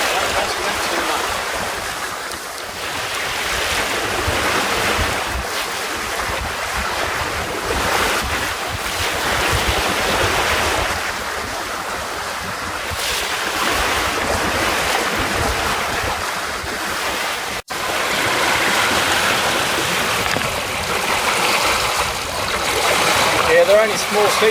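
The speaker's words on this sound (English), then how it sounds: "Yeah, they're only small seas at the moment." Small sea waves wash and slosh around a trailer sailer under sail, a steady broadband rush blended with heavy wind buffeting on the microphone, continuous and close throughout.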